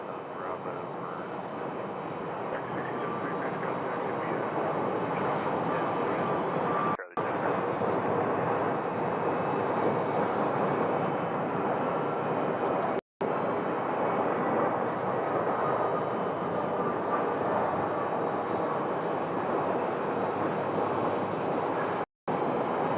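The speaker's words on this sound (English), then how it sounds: "But this A319 is landing from Salt Lake City." An Airbus A319 airliner lands at Phoenix Sky Harbor Airport on arrival from Salt Lake City. A steady, broad roar with wind noise runs throughout, broken by a few abrupt brief dropouts.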